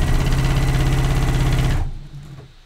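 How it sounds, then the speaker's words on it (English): A sewing machine stitches stretchy spandex swimsuit fabric with a steady, fast mechanical whir for almost two seconds, then winds down and stops, leaving a faint hum. "Just stitching it together."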